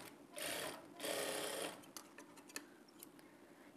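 Quiet, close sewing machine whirring in two short bursts as a blouse is stitched across a marking, followed by soft clicks and handling noises.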